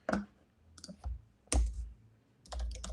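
Computer keyboard typing, a few separate bursts of clicking keystrokes with brief pauses between them, close and fairly crisp.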